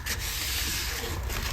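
Hand-sanding the edge of a guitar fretboard with 240 grit sandpaper gives a steady, close, dry rubbing hiss for a moment, with no talking.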